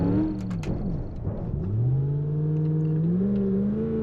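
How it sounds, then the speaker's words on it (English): A Gavril Grand Marshal V8 in BeamNG.drive revs and winds through a J-turn attempt, its engine tone dipping then climbing into a steady loud whine with tire chirps, close and continuous without speech. "An attempt at a J-turn that did not really work as well as it should have."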